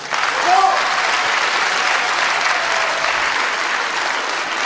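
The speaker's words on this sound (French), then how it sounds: "Applaudissez-la." An audience at an award ceremony applauds in a dense, steady burst of clapping that fills the whole moment, loud and continuous with no pauses, with a brief voice rising over it near the start.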